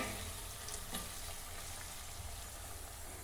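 Country chicken pieces fry in hot oil with a steady, dense sizzle and occasional stirring, close and continuous throughout.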